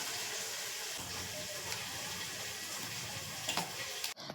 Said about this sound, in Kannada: ಒಂಚೂರು ನೀರು ಹಾಕ್ಕೊತಾ ಇದ್ದೀನಿ.